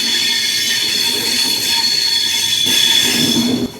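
Wheels of the Ranakpur Express (Hanumangarh–Dadar) squeal loudly and continuously as it passes on the opposite track beside a moving Sriganganagar Express, a steady metallic screech with rumbling underneath that drops away near the end.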